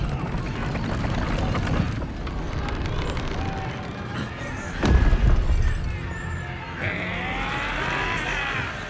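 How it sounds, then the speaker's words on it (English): A cannon fires in the Baldur's Gate 3 video game, a heavy boom rising out of a dense, continuous battle din with rumbling and shouting voices throughout. "Cannon!"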